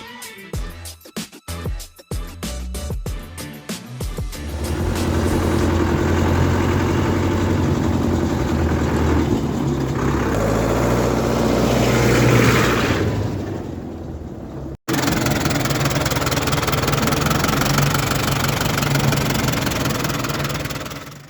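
A Lamborghini diesel tractor engine, recently repaired, stutters through a few sharp firing bursts before settling into a loud, steady running rumble on a test drive, with a brief cutout near the end.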